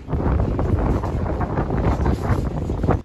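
Strong, gusty wind on the Taitung seashore, stirred by a typhoon's outer circulation, roars as continuous buffeting against the microphone, loud and steady throughout with a surging, rumbling character.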